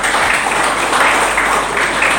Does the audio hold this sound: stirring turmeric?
no